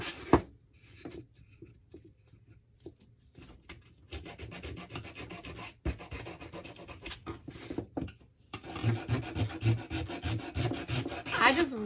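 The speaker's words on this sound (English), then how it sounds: "I sometimes like to just take my sandpaper and get the corners really good." Sandpaper rubbed by hand over the corners of a wooden candlestick for a distressed finish, giving close, scratchy strokes in uneven bursts that pick up and grow louder toward the end.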